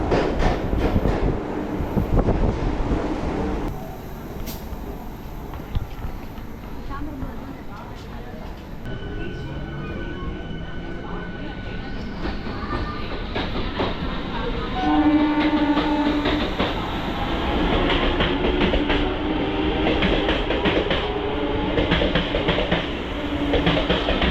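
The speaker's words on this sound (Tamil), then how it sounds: "ட்ரெயின் பார்த்தீங்கன்னா உங்களுக்கு எக்மோர் ரயில்வே ஸ்டேஷன் வந்து ரீச் ஆகிடுச்சிங்க" A Chennai MRTS suburban train rumbles and clatters along the rails into Egmore station, slowing with squealing brakes and steady wheel noise, with faint voices in the background.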